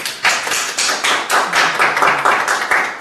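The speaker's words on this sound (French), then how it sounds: "on applaudit bien fort" Audience at a French-language annual general assembly of Le Gaboteur applauding, a steady, dense patter of many hands clapping nearby for about three seconds, with no talk over it.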